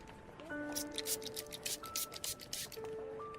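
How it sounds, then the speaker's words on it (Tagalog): Rubbing alcohol sprayed onto a motorcycle helmet, heard as a string of quick, close hissing spray bursts over steady background music. "Pero isprayan ko po ulit sandali ng alcohol bago niyo isuot."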